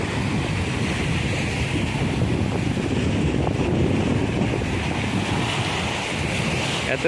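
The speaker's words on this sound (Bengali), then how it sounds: "সুন্দর ফুরফুর করে হাওয়া আসছে ছোট্ট ছোট্ট ঢেউ" Continuous surf washes against the shore while steady wind buffets the microphone, producing a dense, unbroken roar with no voices.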